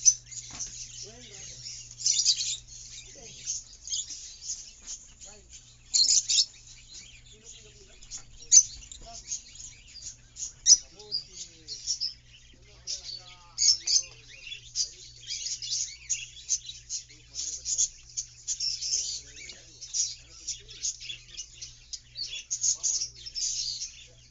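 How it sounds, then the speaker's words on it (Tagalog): Many small birds chirp and twitter continuously in high, overlapping calls at a pet feed shop area on 13th Street, Al-Khobar, a busy chorus at moderate distance with a low hum underneath. "Daming ibon."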